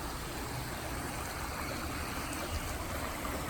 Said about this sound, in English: A little tiny creek.